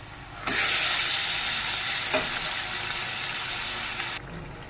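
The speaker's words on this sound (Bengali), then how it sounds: "পেঁয়াজ ভাজা হয়ে গেছে দিয়ে দেবো ম্যারিনেট করে রাখা সেই চিকেনটা" Marinated chicken dropped onto fried onions in a hot oiled wok bursts into a loud, close sizzle that holds steady for several seconds, then cuts off abruptly, with no voices.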